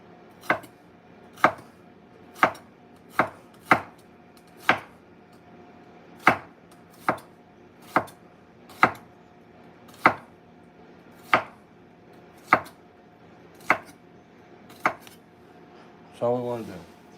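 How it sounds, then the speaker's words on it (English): A knife chopping through food on a cutting board while preparing New Orleans-style BBQ shrimp, sharp evenly spaced thuds about once a second, close and crisp, ending with a short rattling clatter. "So all we want to do here is just slice it."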